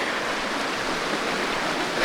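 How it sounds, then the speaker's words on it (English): Small mountain river in Peru rushing steadily, a dense, even wash of flowing water heard up close with no voices, continuous and unbroken throughout. "this actual river here, it's more of a stream"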